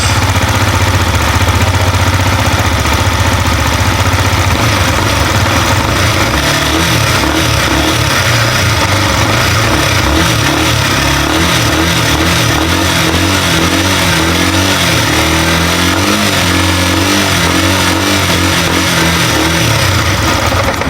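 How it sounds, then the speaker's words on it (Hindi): A Yamaha MT-15 motorcycle starts up and idles loudly up close, then is revved repeatedly with rising and falling engine roar. "एक बार आपको स्टार्ट करके इसका साउंड सुनवा देते हैं।"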